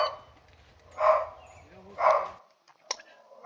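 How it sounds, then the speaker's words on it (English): Dogs bark at a USPSA shooting match, two distinct bursts about a second apart at moderate distance, with a brief sharper sound after, in an otherwise quiet outdoor setting. "Man, these dogs are not going to stop barking."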